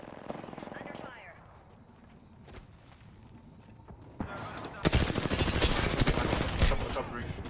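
Gunfire bursts out in an Apex Legends match, rapid automatic volleys that grow louder and denser toward the end while players talk over the shooting.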